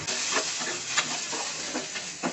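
Spices and chopped onions fry in hot oil for a chana dal curry, giving a steady, fairly quiet sizzle and hiss with a few soft stirring scrapes and brief bursts throughout.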